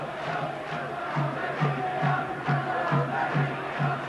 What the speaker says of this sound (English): Trying to cheer their side home.